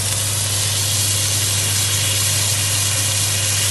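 Butter sizzles in a hot pan with mushrooms and shallots, a loud steady hiss over a low hum that holds unchanged throughout, with no voices.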